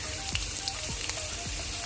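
Onions sizzle in beef fat oil in a wok, a bright, steady crackle with a few soft scraping stirs, close and moderately quiet.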